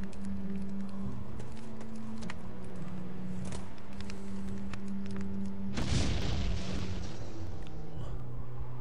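An explosion goes off in the mystery video game And Then There Were None. It comes as a single deep, heavy boom that decays slowly, following a stretch of quiet tonal background ambience.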